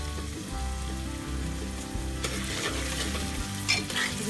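Onions and ginger sizzle steadily in hot oil while frying for a beef curry, with stirring scrapes and a constant crackle close to the pan.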